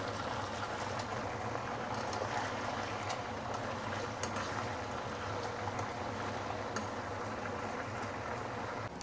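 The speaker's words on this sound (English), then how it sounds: "we are going to deep fry the ribs for about 3 to 5 minutes" Pork ribs deep frying in hot oil, a steady, dense bubbling hiss that stays even and close throughout with no talking.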